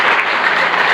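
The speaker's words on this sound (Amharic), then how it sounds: "አጨብጭቡላቸው።" Applause fills a wedding celebration after the couple is blessed with a prayer, a dense steady clapping from a gathered crowd that stays loud and even throughout.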